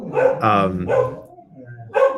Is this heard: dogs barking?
yes